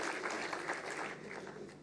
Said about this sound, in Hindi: जोरदार ताली बजाओ आप उनके लिए।